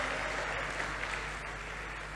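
Steady applause from an audience at a Hindi comedy-poetry performance during a youth conclave, a continuous dense patter of clapping at even loudness with no break.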